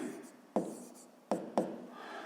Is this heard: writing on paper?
yes